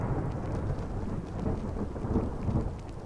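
A video game thunderstorm with lightning and rain: a constant dense rain hiss with low rolling thunder rumbles swelling and fading, loud and continuous without speech.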